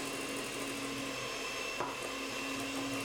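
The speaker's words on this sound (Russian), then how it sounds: "Взбиваем масло 3-5 минут на высокой скорости вращения миксера." An electric hand mixer whirs at high speed, beating butter for a Prince Eugene cherry cake. Its steady motor hum is fairly faint and runs without a break, with no talk.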